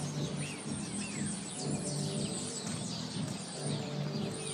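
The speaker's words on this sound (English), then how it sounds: "hear the birds chirping." Birds chirp and twitter at dawn in a Bushwick, Brooklyn street, many small calls overlapping against a steady low hum of traffic and distant music, with no talking.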